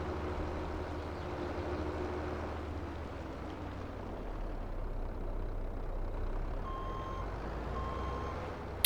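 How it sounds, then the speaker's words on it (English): A tractor in Farming Simulator 22 sounds a reversing alarm. Faint, evenly spaced electronic beeps rise over a steady diesel engine drone near the end. "I forgot this one makes noise when you back up."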